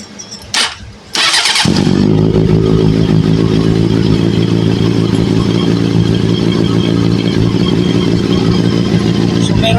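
A motorcycle engine, just reassembled, catches after a short burst of cranking and settles into a loud, steady idle that runs close up for the rest of the clip.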